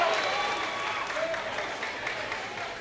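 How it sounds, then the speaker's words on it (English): Crowd applause and cheering in a high school basketball gym, Portland at Oxford Hills, a sustained wash of clapping with a voice talking over it throughout. "The crowd goes wild."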